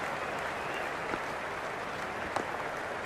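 Stadium crowd applause in the video game Cricket 22 during a Pakistan versus India T20 World Cup match, a dense, even wash of clapping and crowd noise filling the whole stretch, steady and moderately loud, with no clear speech.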